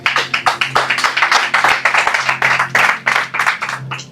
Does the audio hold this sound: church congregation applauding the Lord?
yes